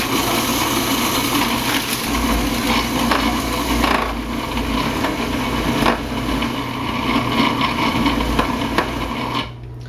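Food processor with its blade spinning through Oreo cookies and cream cheese, producing a steady whirring motor drone with a thick, churning, slightly knocking texture as the mixture balls up. The sound runs continuously and close before cutting off at the end.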